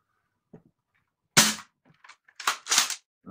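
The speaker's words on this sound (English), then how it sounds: "And that was a dry fire." A modified CEDA S airsoft spring gun is dry fired, giving a sharp snap followed by a few quick mechanical clacks and clicks, close and loud, with no talking.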